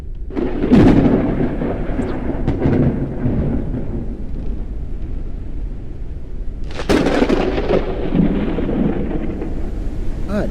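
Loud thunder rolls and cracks during a storm in the video game Forever Skies, with a heavy rumble near the start and a second sharp crack partway through, sustained booming throughout and no voices.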